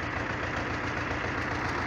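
T-25 tractor engine running a baler in Kyrgyzstan, a steady, dense low rumble with a slight knocking pulse, continuous and close throughout, no talking.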